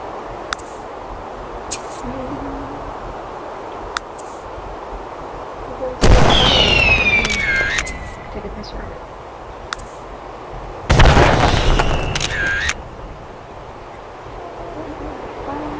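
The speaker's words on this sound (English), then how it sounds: "I actually really never knew they had fireworks right here." Fireworks at a park in The Sims 3 game, with sharp pops and crackles plus two loud booming bursts that whistle and crackle out over several seconds, over a steady background wash.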